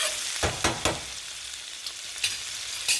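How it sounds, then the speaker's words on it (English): Red onion sautés in a pan with a continuous sizzle, broken by several sharp scraping stirs that come close together and then in sparser bursts. "I'm going to just saute some onion, some broccoli along with some baby spinach"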